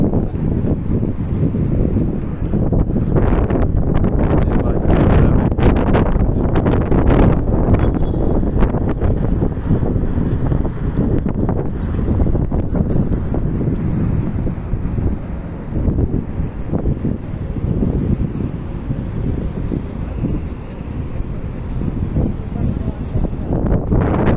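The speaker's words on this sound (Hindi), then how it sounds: "हवा चल रही है" Wind blowing in cool weather in Makkah, Saudi Arabia, loud continuous gusty rumble buffeting the microphone throughout, with speech mixed in underneath.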